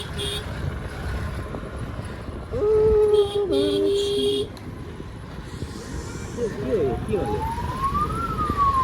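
Ambulance siren in street traffic, a rising and falling wail building from around six seconds on, preceded by a short steady horn-like tone, over constant road and engine noise with people talking.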